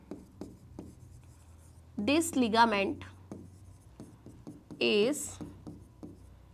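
Marker or chalk writing on a board during a biology lecture, light scratchy strokes and taps heard close, with a teacher's voice speaking over part of it.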